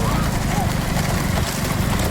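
Bullocks pound along in a village bullock cart race, their hooves making a fast, continuous clatter at close range under loud shouting and crowd noise.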